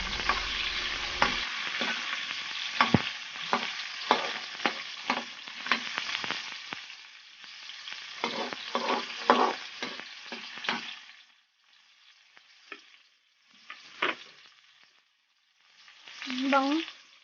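Bangus milkfish frying in a pan for sinigang, a steady crackling sizzle with clattering stirs and utensil scrapes, then fading to quieter sporadic spatters and a final burst of sizzling.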